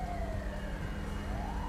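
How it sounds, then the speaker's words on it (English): Ambulance siren in the video game GTA 5, a wailing tone sweeping slowly down then up, heard at moderate distance over a steady low rumble of traffic, with no voices. "There's an ambulance coming."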